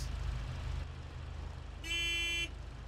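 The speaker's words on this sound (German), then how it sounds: "Upsa, die Hupe macht das kaputt" Truck horn in the SnowRunner game sounds one steady, loud honk lasting about half a second and standing clearly above the low rumble of an idling engine.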